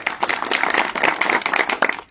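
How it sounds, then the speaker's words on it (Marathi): A crowd gathered at a meeting about the Niphad cooperative sugar factory claps to welcome a guest, close and lively, a quick burst of many hands clapping together in a rapid, uneven rhythm for about two seconds. "जितेंद्र भावे सर त्यांचं आपण टाळ्या वाजवून स्वागत करा"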